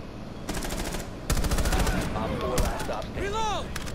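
Automatic gunfire in the video game Rainbow Six Siege, rapid sustained bursts of shots with heavy recoil, loud and close, interrupted by brief gaps and followed by a rising electronic whine.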